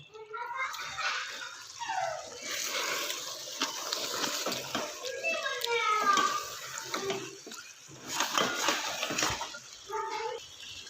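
Water is poured into a pan of chicken karahi, making splashing, gurgling pours in several uneven bursts, with rising pitch sweeps as the liquid fills and pauses between the pours.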